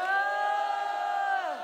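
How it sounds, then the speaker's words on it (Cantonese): An audience boos in one long, sustained, droning jeer. It holds steady for over a second before trailing off and falling away. "相反就係噓聲㗎啦。"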